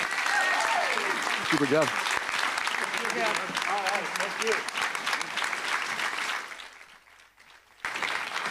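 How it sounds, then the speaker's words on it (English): A crowd at the opening of a state fair applauds, a sustained burst of clapping under a speaker's voice that thins out near the end and then briefly resumes. "Let's give this incredible team a great round of applause as well"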